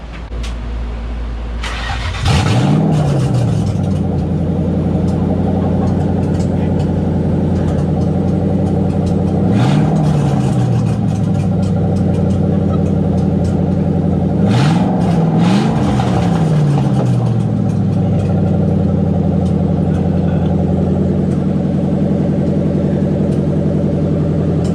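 A 1997 Ford Mustang Cobra V8 running on open headers cranks and fires up, then settles into a loud, raspy idle broken by three sharp throttle blips that swell and fall back; very close, with no talking.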